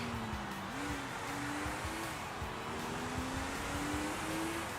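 Simulated race car engine in a Forza racing video game, a steady revving drone that shifts pitch through gear changes, loud and continuous with no talk.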